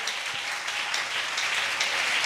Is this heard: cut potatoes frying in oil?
no